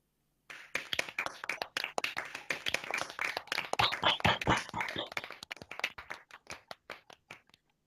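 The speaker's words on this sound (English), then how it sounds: "Please unmute yourselves and cheer and clap loudly for each other." A remote online audience clapping fast and unevenly for several seconds at a graduation celebration, dense and steady throughout, with faint scattered cheers mixed in before the claps thin out.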